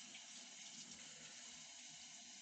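Running tap water pours steadily into a bag being rinsed clean, a soft continuous splashing hiss that stays faint and even throughout.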